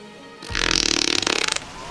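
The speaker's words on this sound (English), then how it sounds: "Just keeps farting ferociously." Tiamat, the Fiend of Wind in Final Fantasy 1, lets out one loud, long fart, a buzzing, rapidly fluttering blast lasting about a second before cutting off.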